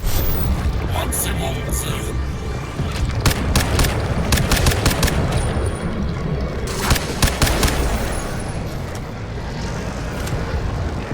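Turret gunfire in the video game Crysis 3 Remastered: rapid bursts of sharp shots crackle over a dense, rumbling battle din, with voices mixed in.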